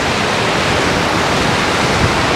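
Surf rolls in at a Black Sea beach near Sukko, a loud, unbroken wash of breaking waves filling the scene evenly from start to finish, with no voices.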